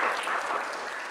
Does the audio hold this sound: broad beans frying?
no